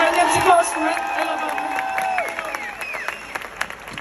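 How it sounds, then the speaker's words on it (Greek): A lively audience breaks into clapping mixed with cheers, whoops and excited voices, loud at first and then thinning into scattered claps and chatter. "Λίγο, λίγο χειροκρότημα πριν."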